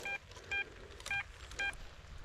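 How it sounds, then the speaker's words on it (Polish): An XP Deus metal detector gives a signal during an outdoor treasure hunt: four short, clean electronic beeps at an even pace over quiet ambient noise. "Tutaj jakiś sygnał mam."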